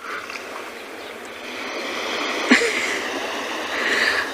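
Ocean waves wash along the Cape Town coast where African penguins gather, a steady broad surf rush with a brief splash midway and a faint high bird call near the end.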